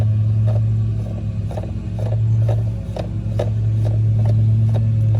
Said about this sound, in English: I'm gonna unscrew it most of the way by hand, if at all possible.